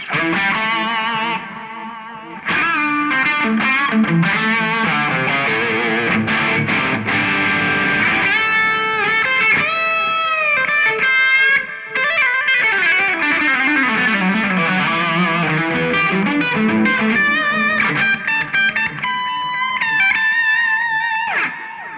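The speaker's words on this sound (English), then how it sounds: "Now we can come and bring our delay in that we set up before." Electric guitar played through an Eventide H90 effects pedal with delay and reverb, sustained chords and melodic lines with repeating echoes and washy tails, continuous and loud with no talking.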